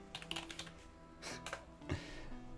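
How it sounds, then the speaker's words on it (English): Fast, light keystrokes tap on a computer keyboard in short runs while someone enters words during a Lingo word game; the typing is close but fairly quiet. "I'm typing other color names just because I can."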